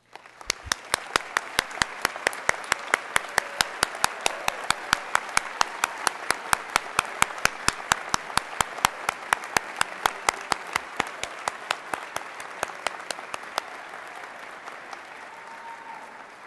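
Applause rises at a university law school commencement as graduates' parents stand, a steady run of sharp claps from a large seated crowd that holds level, then thins and fades toward the end.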